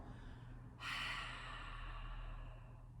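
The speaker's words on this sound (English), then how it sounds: "Open your mouth, empty out any stale air you have in the lungs. Big exhale." A big cleansing exhale out through an open mouth during a yoga practice on the mat, a single long, breathy whoosh that rises suddenly and slowly fades, close and soft over a low background hum, with no talking.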